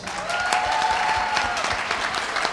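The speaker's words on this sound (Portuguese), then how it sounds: "Palmas pra vocês" Brief, dense audience applause from a group at a church youth podcast, steady and fairly close throughout, with a faint tone running underneath.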